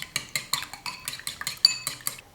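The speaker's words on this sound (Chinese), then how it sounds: "把鸡蛋打散" Three eggs are beaten in a bowl with quick, rhythmic clinking strokes against the side, close and steady, with no voices.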